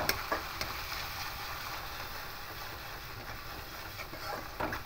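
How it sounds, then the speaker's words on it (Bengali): Kashmiri chilli powder and turmeric powder being stirred into garlic frying in oil for ghugni, a continuous close sizzle with light scraping stir strokes and a few soft clicks. "দিয়ে খুব ভালো করে মিশিয়ে নেব।"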